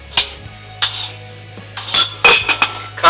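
A metal lid set onto a pot of cooked lentils with parsley, producing a series of sharp, close clinks and rattles in irregular bursts, loud and clear with no speech.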